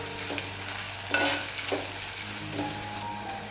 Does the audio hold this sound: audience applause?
no